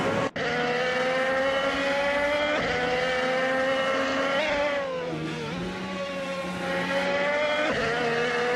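Race cars in a nonstop racing broadcast whine at high revs, loud and sustained, with pitch rising and dipping through gear shifts and passes.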